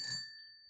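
A single short bell ding, bright and ringing, fading within a second with nothing else around it.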